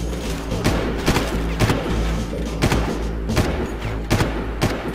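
Rapid bursts of Far Cry gunfire crack repeatedly over a dense, rumbling battle background, with a few sharper loud shots standing out.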